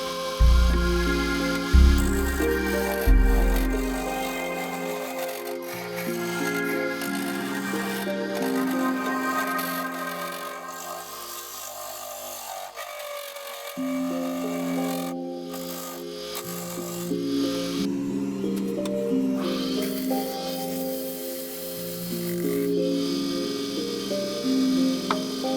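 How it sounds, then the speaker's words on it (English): A wood lathe turns a live-edge bowl while a chisel makes slow passes along its inside edge, giving a steady scraping rasp under a continuous motor hum with a dip midway. "I can now make a head start on the inside edge, and again, just nice slow passes"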